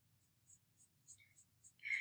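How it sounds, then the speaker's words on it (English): A brush dabbing brown paint onto a paper bear cutout, a quiet series of soft, evenly spaced swishy strokes about every quarter second, close and faint, ending in a slightly louder brush sweep. "Okay, so I'm painting him."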